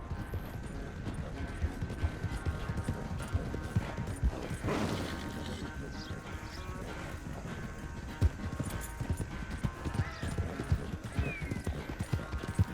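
Horse hooves clip-clop steadily in Red Dead Redemption 2, a rhythmic close trot with creaking tack and a faint mechanical rattle, no talking.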